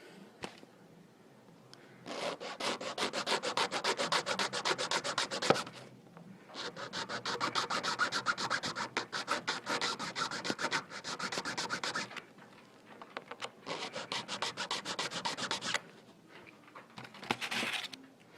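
A hand file scrapes a small plastic arm off an RC winch in three long rasping bursts with brief pauses between them and a short final stroke, close and steady.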